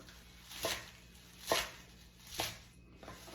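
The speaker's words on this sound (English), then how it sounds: "Cut them in 1-inch portions." A knife chops through a bunch of kale on a cutting board in three soft, separate crunchy strokes, close but quiet, with no talking.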